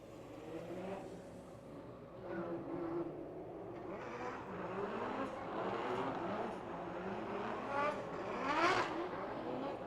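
BMW E36 drift cars roar around the Lake Erie Speedway oval during a drift competition, engines whirring and surging steadily, louder toward the end with a sharp rise near the finish, with faint distant commentary underneath.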